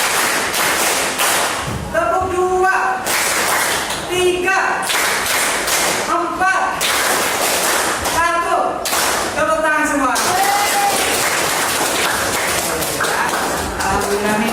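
A teacher leads a classroom of students in an Indonesian lesson through a counted clapping routine, claps of one to five beats ringing out in bursts between his loud spoken count, repeating through the whole stretch.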